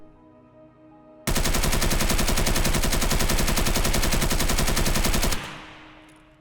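An unmodded AK-74 rifle fires full-auto in the video game Escape From Tarkov. The burst is loud, close and continuous for about four seconds, then a short echoing tail fades out.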